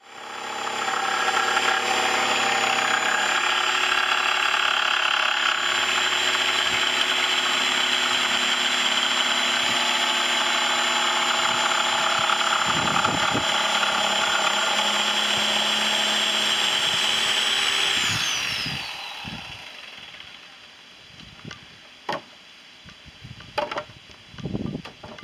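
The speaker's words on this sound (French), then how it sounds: "donc à la scie sauteuse de toutes les lignes que j'ai tracées au préalable" A jigsaw cuts along pre-drawn lines in a large wood panel for a 180x200 king-size bed frame, a loud sustained buzzing whine that runs steadily, then winds down and stops, followed by a few faint knocks and handling sounds.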